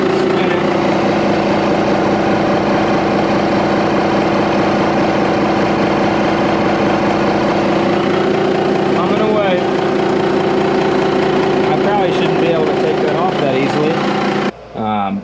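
An old mechanical 5.5 liter inline-six turbo diesel with a large single-speed turbocharger runs steadily up close, a loud continuous droning idle with a slight change near the end.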